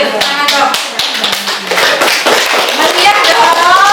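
A classroom of students claps their hands together, a quick irregular patter of sharp claps close by, mixed with voices talking and calling out.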